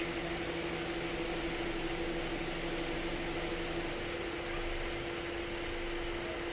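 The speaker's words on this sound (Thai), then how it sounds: "นี่คือเสียงการทำงานของระบบแอร์" A steady mechanical hum with a constant low whir from a Honda City's air conditioning running while the engine idles, unchanging throughout.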